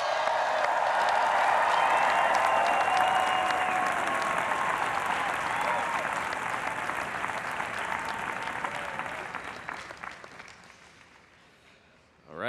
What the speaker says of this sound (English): Can we give one more round of applause for Bill?